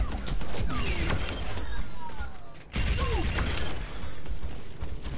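Bastion, a robot in the Overwatch game, taking incoming fire: continuous loud rattling shots and metallic impacts with whizzing ricochets, a brief break, then more sustained shooting, with a voice over it.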